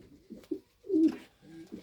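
Pigeons in a racing pigeon loft give soft, low coos in short repeated bursts close by, with someone speaking quietly between them.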